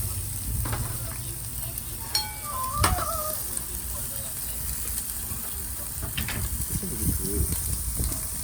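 Bacon fries on a barbecue grill with a continuous close sizzle, broken by a few clinks and scraping stirs, while people chat nearby.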